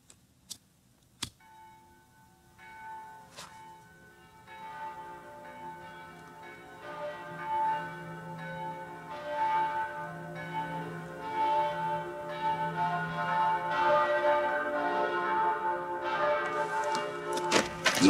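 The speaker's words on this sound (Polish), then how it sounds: "Dzwonią do kościoła." Church bells ring out on a Sunday morning in a wartime film set on the Westerplatte peninsula, starting with a few isolated strikes and building into sustained, overlapping peals with steady ticking beneath.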